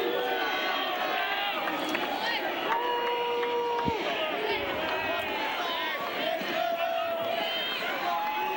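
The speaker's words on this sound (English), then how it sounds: "the crowd's getting all over Rusedski. Delighted at every single mistake he makes." The crowd at the 2002 US Open third-round match between Pete Sampras and Greg Rusedski gives off a steady, loud murmur with bursts of cheering and whistles that carry throughout.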